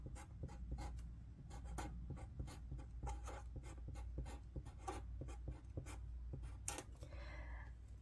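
A pen sketching a design on a blank sheet of paper, close and quiet, with short rapid strokes and scratches in an irregular rhythm and a brief rubbing scrape near the end.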